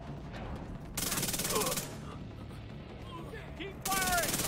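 SMG bursts in the video game The Division 2, two loud rapid-fire volleys, one early and one at the end, with quieter game noise between them and no talk.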